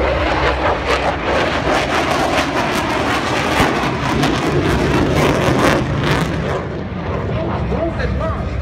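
A loud roar of an F-15SG Eagle fighter jet flashing past an AH-64D Apache attack helicopter at close range during the Singapore Airshow 2016 integrated display, a sustained rumbling blast filling the whole stretch.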